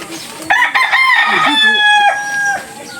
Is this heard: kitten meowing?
no